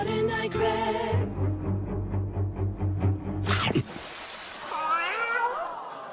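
A cat meows once, clear and fairly close, late in the scene after a stretch of layered music with a steady low hum; the meow rises and bends in pitch before fading.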